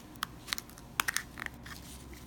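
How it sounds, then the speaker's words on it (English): Scissors snipping around the edge of an Akoya pearl oyster shell, a handful of sharp, close crunching clicks spaced irregularly, with a quick cluster in the middle and faint rustle between cuts. "I am going to use the classic scissor method to open this oyster. I'm just going to cut around the edge."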